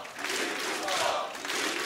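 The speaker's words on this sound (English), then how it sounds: "He knows the crowd are behind him. And you can hear it." A large esports arena crowd at ESL One Katowice 2015 roars and cheers steadily throughout, a loud, dense wall of voices without letup.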